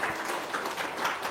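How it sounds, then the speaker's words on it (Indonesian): Brief burst of audience clapping at a gathering, a short, moderately loud patter of hands lasting only about a second. "Tepuk tangan ya."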